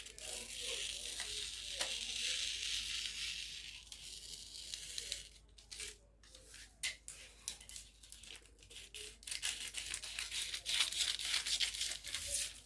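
Scissors cutting through gown fabric for a yoke, close and soft: a steady hiss of blades gliding through cloth, then a run of quick irregular snips and crisp rustles, with no talk.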